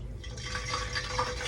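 A drop of water hits hot frying grease in a fried-chicken pot and sets off a steady, loud crackling sizzle with bright spitting pops throughout, with no voices.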